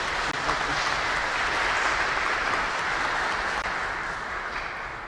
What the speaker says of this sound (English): we will give him a round of applause when he arrives